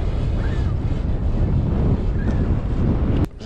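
Steady wind roars across the microphone beside open water while fly fishing for brown trout, a constant low buffeting rush that drops off abruptly near the end.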